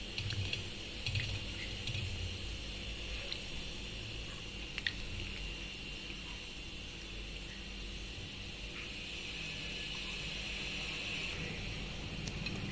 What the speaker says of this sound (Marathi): या तुरटीच्या पाण्यामध्ये हे वेफर्स घालून घ्यायचे आहेत